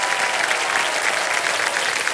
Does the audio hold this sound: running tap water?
no